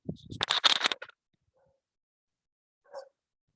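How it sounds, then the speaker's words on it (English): A neighbor's dog barks in a quick burst of several sharp barks at a distance, then falls quiet before one more short bark. "It's the dog, neighbor's dog is barking."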